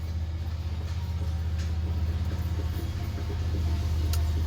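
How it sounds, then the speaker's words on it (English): Steady drone of a running tractor or lawnmower engine, a constant low rumble held at an even, fairly loud level throughout with no voices. "That's the sound of our tractor slash lawnmower."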